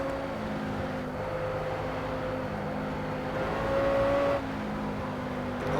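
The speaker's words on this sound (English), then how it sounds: "Oh, I guess I should mention I'm in the Audi R8 LMS GT3" Audi R8 LMS GT3 race car in the racing game Project Cars, heard from the cockpit as a steady engine drone whose pitch rises and falls slightly through a lap, with no talking.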